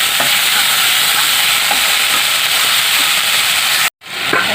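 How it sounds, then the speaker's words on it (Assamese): Night jasmine flowers fry in hot oil with panch phoron, giving a loud, steady sizzle and hiss close up. The sizzle cuts out abruptly for a moment near the end, then returns. "এয়া শেৱালি ফুলকেইটা দি দিছোঁ একদম ফ্ৰেছ গতিকে বেছি টাইম নালাগে জহি যাব নিজে নিজে"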